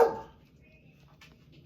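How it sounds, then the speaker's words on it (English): A single dog bark sounds at the start, then fades into quiet background hum. "Excuse the dogs."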